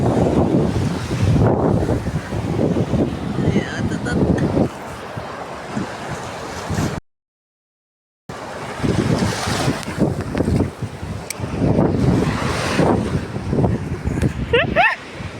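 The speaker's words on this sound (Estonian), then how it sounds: "Me oleme mere ääres, see on nii vinge. See on väga tuuline." Strong wind buffets the microphone at a sandy seashore in Latvia while waves surge and wash in, loud and gusty, with excited voices talking and cheering over it and a short silent gap midway.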